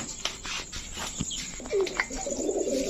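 Chila pigeons, a male and a female, coo softly in low murmuring phrases near the end, over a steady background hiss of surrounding noise.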